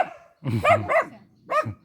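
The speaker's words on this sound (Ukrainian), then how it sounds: "Ну чого ти гавкаєш?" A mother dog abandoned with her puppy in an empty village house barks three times, loud and close, with a short pause between the first pair and the last bark.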